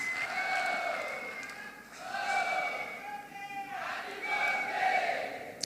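Crowd at a regional stakeholder forum cheering and applauding a minister's introduction, loud shouts and whoops rising in waves over scattered clapping.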